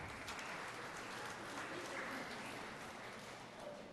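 Steady applause from a church congregation during a homily, a continuous dense clapping texture at moderate level throughout, with faint voices mixed in.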